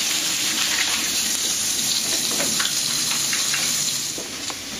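Potatoes frying in a hot pan give a continuous, fairly loud sizzle with crackling pops spread throughout, alone with no talking, easing slightly near the end.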